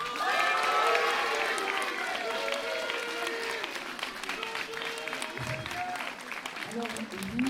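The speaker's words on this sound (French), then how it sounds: "j'aimerais vraiment qu'on les applaudisse." An audience applauds at a school gathering, a full burst of clapping that swells at the start and slowly thins out, with a voice speaking over the tail end.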